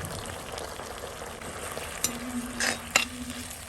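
Chilli sauce, tomato sauce and vinegar are stirred in a pan for a jackfruit chilli dish, giving a soft steady sizzle with a few scraping and tapping strokes of a spoon against the pan, close and fairly quiet.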